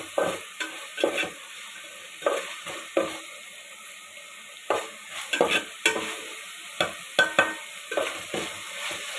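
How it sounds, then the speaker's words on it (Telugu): Onions and green chillies frying in oil in a pan, with a spoon scraping through them in repeated, irregular strokes over a faint, steady sizzle, close and without talk. "ఉల్లిపాయలు పచ్చిమిరపకాయలు నూనెలో వేపుకుంటున్నాము"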